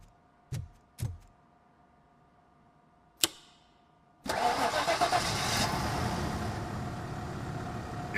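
A car in Robocop: Rogue City, its disconnected coil just repaired, sits through a few sharp clicks and thumps, then its engine cranks and catches, settling into a loud, steady idle.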